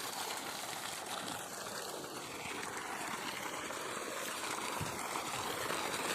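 Continuous rushing water gushing from a newly drilled borewell, a steady broadband gush with faint gurgling, fairly quiet and unbroken for the whole stretch.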